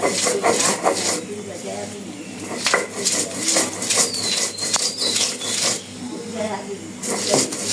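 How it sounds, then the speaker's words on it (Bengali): Spices ground into a paste on a stone by hand, a steady rough scraping and rubbing that repeats in strokes, close by, with faint kitchen clatter and some voice in the background. "এই পাশে এখন বেটে নেব"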